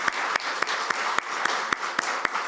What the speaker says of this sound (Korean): 자, 다 같이 박수해 주세요